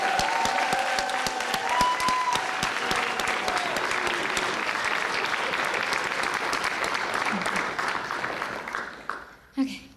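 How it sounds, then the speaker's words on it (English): A large graduation crowd applauds doctorate and PhD graduates with sustained, dense clapping, while a voice carries over it through the first seconds and a short burst of speech follows as the clapping thins near the end. "join me again in giving a big round of applause for our doctorate and PhD"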